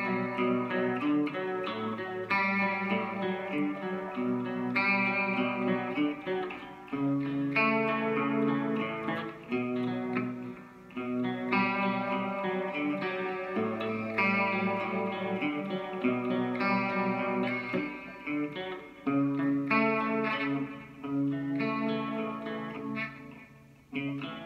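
Intro to a song on electric guitar through a clean channel: arpeggiated picked notes in a slow repeating pattern, chorus-like shimmer and reverb, played alone and fairly close.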